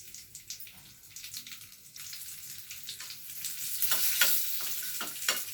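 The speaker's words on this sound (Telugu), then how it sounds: "ఈలోగా మనం పక్కనే నెయ్యి వేసుకొని జీడిపప్పు, కిస్మిస్లు వేయించి పక్కన పెట్టుకుందామండి" Cashews and raisins fry in ghee in a pan, giving a soft, steady sizzle with brief stirring scrapes that grow a little louder toward the end.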